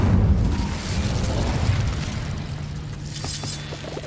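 The Incendio fire spell cast in Hogwarts Legacy bursts out as a loud, deep whooshing boom that rumbles for a couple of seconds, then thins into a fainter crackling tail with a few small pops.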